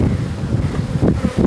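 Wind gusts buffet the microphone beside beehives in a beekeeping yard, a loud low rumbling roar that surges and fades over a second and a half.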